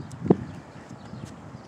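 A single hoof clop from horses moving nearby rings out once, sharp and brief, over a quiet outdoor background.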